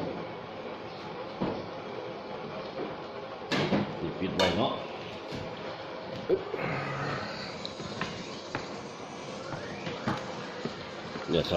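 Fish curry (aom pla) is scooped from the bottom of a pot: scattered metallic scrapes and knocks of a ladle against the pot, with a couple of sharper clanks, under a low background hum.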